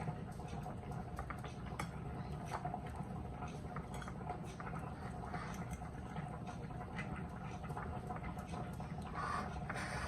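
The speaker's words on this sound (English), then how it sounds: "You can hear my beets boiling." Steady bubbling and gurgling of beets boiling in a pot of water, a continuous busy simmer with small pops, fairly quiet and close.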